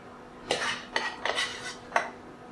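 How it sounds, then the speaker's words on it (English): A spoon stirs rice into chicken soup in a pot for Thai congee, giving four bursts of clinking and scraping against the pot with short pauses between them. "I'm going to mix the rice in the soup."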